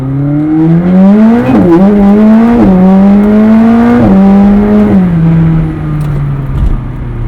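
A McLaren 765LT with a roof scoop accelerates hard in sport mode. Its engine roars loudly and close, rising in pitch through several quick upshifts, each marked by a brief dip before the revs climb again. No voices are heard.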